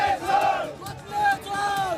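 A large crowd of protesters roars and shouts together in a Nepal street demonstration, a loud, sustained chant that swells and dips over two seconds, with no clear individual voices.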